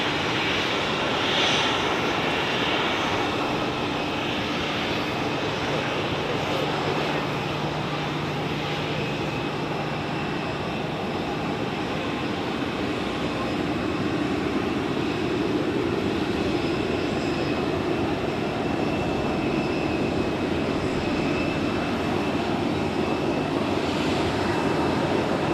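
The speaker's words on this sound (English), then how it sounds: "speaking of Eurowings, special livery now pushing back as well" Eurowings jet in special livery pushing back from its stand at Zurich Airport, a steady distant engine whine and broad rumble holding evenly throughout without talk.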